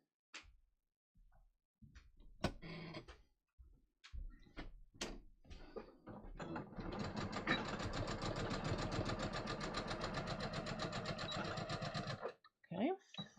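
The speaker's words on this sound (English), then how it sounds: "I am just going to stitch a 1/2 inch seam allowance here." A sewing machine stitches a half-inch seam in Japanese woven cotton, first in short starts and clicks, then in a long, steady, loud run of rapid stitching that stops abruptly near the end. A voice talks briefly before the run.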